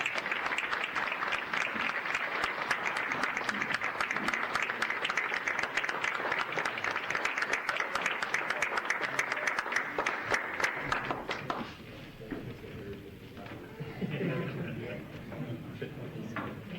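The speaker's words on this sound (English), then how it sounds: "so let's give them a round of applause." A room of people claps in a long, dense burst at a Blackwell, Oklahoma city council meeting to thank city departments. The applause runs about eleven seconds, then fades into scattered claps and murmured voices.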